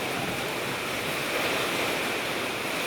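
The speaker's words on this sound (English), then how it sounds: "Take a measuring cylinder and fill almost half of it with water" Coloured water pours steadily into a measuring cylinder as an even, hissing rush of liquid that holds at a constant level throughout, close to the microphone.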